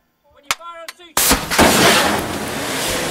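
A weapon fires with a sudden loud, close blast that rolls into a long, heavy roaring rumble, just after a brief shouted voice.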